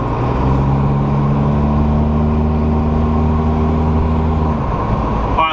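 A 1987 MK2 Jetta cruises along the road with a loud, steady engine drone and road rumble from inside the cabin, holding an even pitch before easing off near the end.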